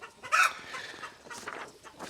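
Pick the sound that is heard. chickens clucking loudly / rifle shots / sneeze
chickens clucking loudly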